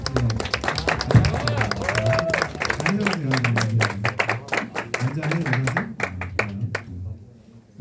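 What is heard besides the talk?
welcoming applause for new high school students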